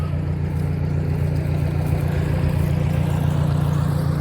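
A tractor engine runs steadily with a bush hog mower attached, giving a loud, continuous low drone with a throbbing rumble and no talk over it.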